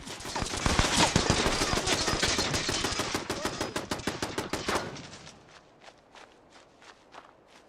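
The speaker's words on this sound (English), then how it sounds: "2 machine guns" Rapid machine gun fire from two guns in Fallout 4, loud and dense bursts for about five seconds, then trailing off into sparse, fainter shots and clicks.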